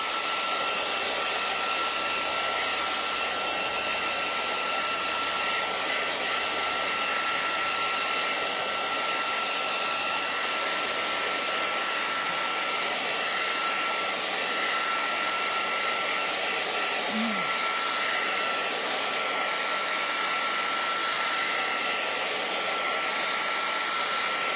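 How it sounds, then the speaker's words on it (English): A regular household hair dryer blows steadily on acrylic paint, a loud continuous whooshing hum with a thin whine that holds unchanged and close throughout, with no voices. "I'm going to dry this with my dryer, which is just a regular dryer,"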